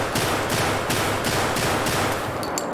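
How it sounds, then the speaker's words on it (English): Rapid automatic gunfire from an enemy in a first-person shooter video game, loud repeated bursts with brief gaps, close and dense, no speech. "Oh, he's shooting at me!"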